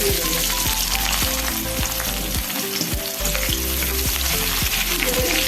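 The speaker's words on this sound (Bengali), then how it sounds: "লবঙ্গ দুটো এলাচ দুটো ফাটিয়ে নিয়েছি আর একটা তেজপাতা দিয়ে অল্প একটু পেঁয়াজ" Onion frying in oil with whole spices (cinnamon, cloves, cardamom and a bay leaf) for a potato and pointed gourd dish: a loud, dense, continuous sizzle with occasional stirring scrapes, close up, with a steady mechanical hum beneath.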